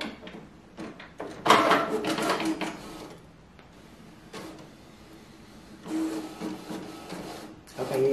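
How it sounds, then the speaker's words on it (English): A Canon Pixma iX6820 wide-format business printer runs a print job: close mechanical whirring and feeding bursts, loud then fading to a low hum before starting up again. "Okay, yeah, it's printing this time."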